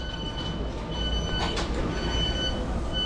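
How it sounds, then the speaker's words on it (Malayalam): A train rumbles steadily nearby with high metallic squeals and a brief hissing burst, pulling into a station in London. "നമുക്ക് പോകാനുള്ള ട്രെയിൻ വരുന്നുണ്ട്"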